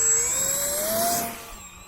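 FT Mini Scout FPV drone with a tri-blade prop taking off in a backyard: a loud, close motor whine with rising pitch that holds steady and then fades slightly as the craft climbs away.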